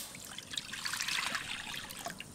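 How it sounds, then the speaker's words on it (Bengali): Water pours steadily into a pot holding chopped banana flower for boiling, a close, continuous splashing trickle lasting a couple of seconds. "দিয়ে দেবো জল"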